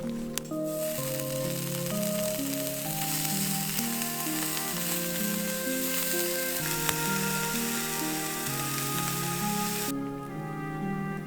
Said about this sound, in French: on s'est fait des petites grillades grâce au réchaud à bois